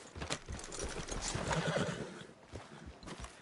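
A horse whinnies in Red Dead Redemption 2, its neighing mixed with steady clip-clopping hooves, fairly close and continuous throughout with no talking over it.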